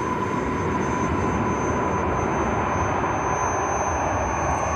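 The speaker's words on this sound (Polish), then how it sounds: "Mamy odjazd, słuchajcie, kolei dolnośląskich do Głogowa," A Koleje Dolnośląskie regional passenger train pulls out of Wrocław Główny for Głogów, giving a steady, loud rumble with a constant hum and no clear breaks throughout.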